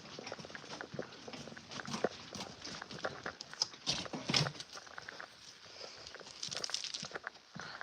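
Irregular horse hoof clops and shuffling steps on a hard stable floor, close by, with scattered knocks and rustles in a quiet indoor space.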